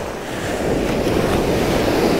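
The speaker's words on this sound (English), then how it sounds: "Got some massive waves" Massive ocean waves crashing on a surf-fishing beach, a loud, broad, continuous roar building as a breaker rolls in close by, with wind buffeting the microphone and no voices.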